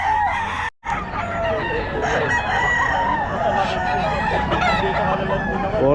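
Roosters crow repeatedly at a chicken farm in Bocaue, loud and close, with overlapping cock-a-doodle-doo calls and clucking filling the air, plus a brief gap of silence near the start.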